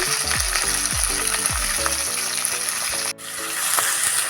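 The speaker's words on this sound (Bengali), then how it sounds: "এখানে লঙ্কা টমেটো আমার এখানে ভাজা হয়ে গেছে তেলের মধ্যে" Chopped ginger, whole green chillies and tomato fry in hot oil for a baby corn chilli dish, making a close, steady sizzle with a brief drop in the crackle near the end.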